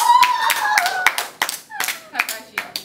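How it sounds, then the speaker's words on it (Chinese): A group applauds at a school agricultural project presentation, with bursts of hand clapping in uneven clusters over about three seconds, close and fairly loud. "再得到全体掌声"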